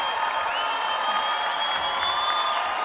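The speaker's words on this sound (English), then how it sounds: "Let's give a final round of applause to our graduates as they recess out of the stadium" A stadium crowd at a university commencement ceremony applauds and cheers the graduates in a dense, continuous wash of clapping with a few faint whoops.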